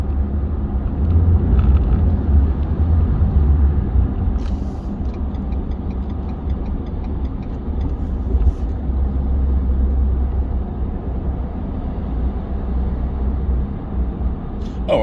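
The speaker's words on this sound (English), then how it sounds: "Why we got so much traffic out here?" Steady road traffic on a busy Saturday, a continuous low engine rumble of passing cars and buses with a loud, close roadside presence and brief ticking transients, no speech.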